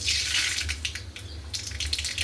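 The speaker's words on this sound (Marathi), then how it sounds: "राई तडतडली" Mustard seeds crackle and sizzle in a ladleful of hot oil in a kadhai, a close, bright hiss with quick irregular pops and spits over a low steady hum, no voices.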